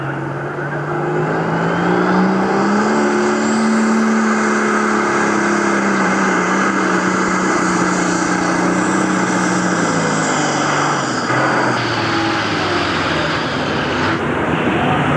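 A 10,000-pound pro stock pulling tractor's engine roars steadily at full throttle at a state fair tractor pull, its deep drone rising and dipping in pitch, loud and close without any voices.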